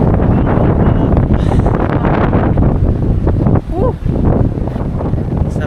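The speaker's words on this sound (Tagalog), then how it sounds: "Sarap ang hangin. Mahangin talaga at labing dagat." Strong wind buffets the microphone in a steady roar by the sea at the Alkhobar Corniche, Saudi Arabia, with a brief excited shout partway through.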